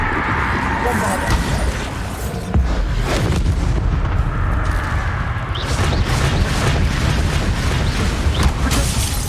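Bombarda spell explosions in the Hogwarts Legacy video game, loud rumbling booms and crashes layered with combat noise, running continuously and heavily mixed with talk.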